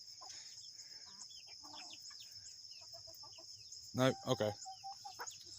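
Backyard chickens cluck in short, scattered calls, with one louder burst of clucking near the end, over a constant high-pitched insect-like whine; a person says a few words in between.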